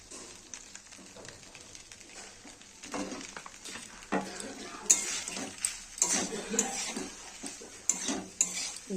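Egg pasta with ketchup, tomato sauce and spice mix being stirred in a pan, with soft scraping and clinks of a utensil against metal over a faint sizzle, louder knocks toward the end.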